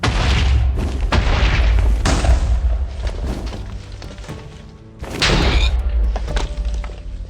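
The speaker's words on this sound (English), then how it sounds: "we've got the explosion Jufu" Heavy booming blasts from an explosion fire-magic spell in Minecraft, with a Japanese spirit magic mod, land as loud, close bursts with long rumbling tails, one at the start, another near two seconds and a third around five seconds.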